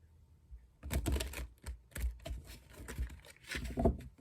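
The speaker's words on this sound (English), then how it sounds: "Some shuffling first." A tarot card deck being shuffled by hand: bursts of rapid papery riffling and patter, close and fairly quiet, coming in several separate rounds with short pauses between them.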